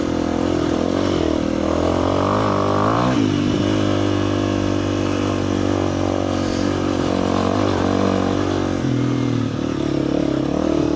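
Motorcycle ridden along a rough back trail to Crown King, engine droning loud and steady throughout with clattering and shifting revs as it bounces over terrain, no talk.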